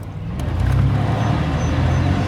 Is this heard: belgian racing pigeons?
no